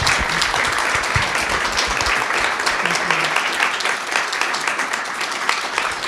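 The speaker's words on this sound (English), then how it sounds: "Everyone, please give a round of applause for our 3 speakers." An audience applauds three speakers after a talk on 21st-century exploration, a sustained burst of dense clapping with some voices mixed in, fading slightly toward the end.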